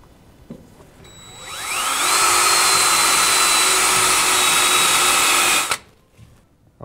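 A power drill bores into a pin on a Caterpillar D4 dozer, spinning up with a rising whine into a loud, steady high-pitched grind for several seconds before stopping abruptly, close by.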